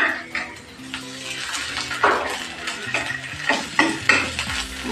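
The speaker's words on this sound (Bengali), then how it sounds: "আবার একটু ভেজে নেব এগুলো।" Onion with ginger and garlic paste frying in a pan, with stirring scrapes and sizzling bursts up close over a low tonal background.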